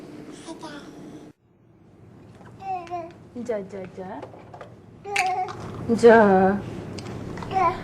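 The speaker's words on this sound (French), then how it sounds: "Cette étape du babillage est importante pour la prononciation des mots qui suivront." A baby of about six months babbles close by in a run of short, varied vocal bursts and syllable-like strings, some louder, with brief pauses between them.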